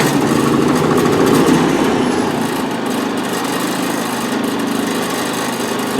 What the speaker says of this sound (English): So in order to start the generator, you'd press button number 1.